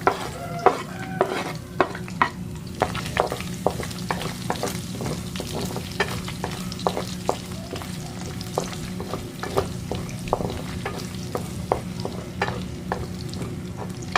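Garlic sautés in chicken fat and oil in a pan, giving a steady, close sizzle and fry throughout, with frequent sharp clicks and scrapes of stirring.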